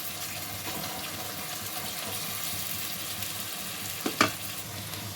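Ginger-garlic paste with turmeric frying in a pan for brinjal and fish curry, a steady, faint hiss of oil running throughout with one short clatter near the end, close by and without speech.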